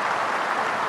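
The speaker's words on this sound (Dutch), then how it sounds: "En het applaus" A stadium crowd applauding at the Alajuelense versus FC Twente farewell match for Bryan Ruiz, a continuous roar of distant clapping that stays level throughout the brief moment.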